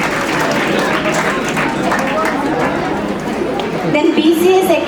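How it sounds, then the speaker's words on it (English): Audience applause at a college annual prize ceremony, a steady dense clapping wash running throughout with crowd chatter mixed in, fairly loud and close. "Audience, please keep clapping"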